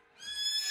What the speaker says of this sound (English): Colonel Sanders' horse is truly a thing of beauty